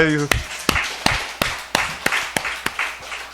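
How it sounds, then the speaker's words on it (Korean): Church congregation clapping in a slow, spaced rhythm, about nine sharp distinct claps roughly a third of a second apart, close and fairly loud after a brief sung or spoken tone at the start. "저 두 분 박수합시다."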